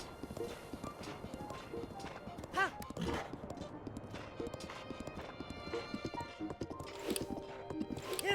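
Horse hoofbeats while riding in Zelda: Breath of the Wild, a steady clip-clop of in-game hooves with an occasional whinny, heard faintly under game music and some talk.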